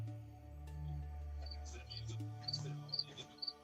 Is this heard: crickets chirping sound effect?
yes